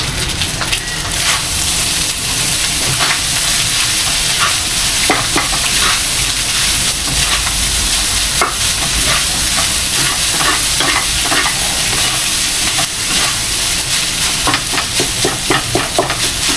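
Loud, steady sizzling of garlic fried rice with egg in a hot pan, with frequent scraping stirs of a spatula clattering against the pan throughout, no talking.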